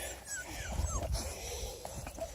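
A litter of 7.5-week-old beagle puppies whimper and yip in a busy, close-up jumble of high squeaky cries, with soft rustling and shuffling underneath.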